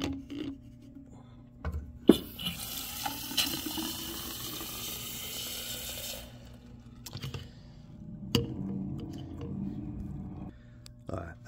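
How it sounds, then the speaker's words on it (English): Water pours into a large laboratory graduated cylinder in a short, hissing burst of a few seconds, with quiet handling knocks and a voice talking around it. "Fill this up with water."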